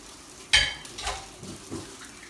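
French toast frying on a hot griddle, with a sharp clatter at the start, then soft sizzling and a few light utensil scrapes and taps, fairly quiet and without speech.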